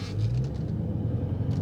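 Low engine rumble from a 2023 Dodge Charger Scat Pack while driving, a brief, steady, fairly quiet growl heard from inside the car.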